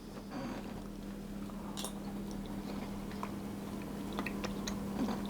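Someone tastes homemade vanilla custard on its own, with soft, close chewing and mouth sounds over a steady low hum and no talking.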